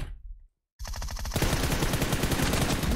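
Automatic gunfire from the BGMI mobile battle royale game, a brief break then sustained rapid bursts of shots, loud and close, with no talk over it.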